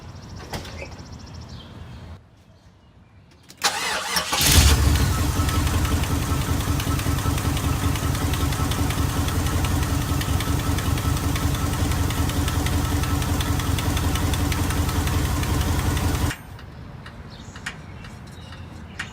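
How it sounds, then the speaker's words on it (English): A Jeep Grand Wagoneer engine cranks briefly, fires and then runs at a steady, close ticking idle for about twelve seconds before cutting off, leaving quieter background. "Start it up, let it warm and circulate all the oil goodness."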